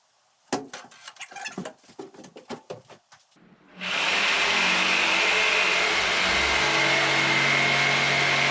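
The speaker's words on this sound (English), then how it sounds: "I'm gonna get the jigsaw and cut it" Power jigsaw cutting a wall panel during a 1953 GM transit bus conversion, starting after several light knocks and taps, then a loud steady buzzing cut that runs without a break to the end.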